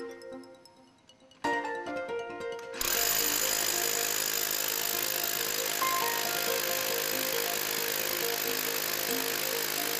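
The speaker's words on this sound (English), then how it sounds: "Then chip in between board holes using a 1 inch bit on a chipping hammer." Chipping hammer with a 1 inch bit breaking concrete at a crack in a swimming pool, a loud continuous rapid pounding rattle that starts after a few seconds of quieter sounds and keeps going steadily.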